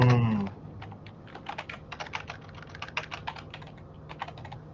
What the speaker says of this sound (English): somebody typing hard as hell